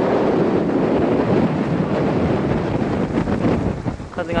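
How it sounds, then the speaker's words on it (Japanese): Strong wind blasts across an exposed grassy headland on a coastal peninsula, pounding the microphone in a loud, continuous roar that eases slightly toward the end. "風が強い。"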